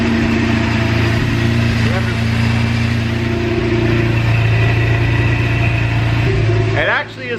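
A freshly rebuilt Lamborghini Murcielago V12 with a manual gearbox idles steadily, a loud, smooth, even drone with its exhaust pointing straight down, while voices talk over it before the engine note dips near the end.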